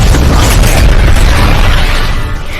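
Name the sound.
huge explosion in animation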